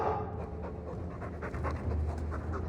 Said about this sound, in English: He's a sweet dog, Hawke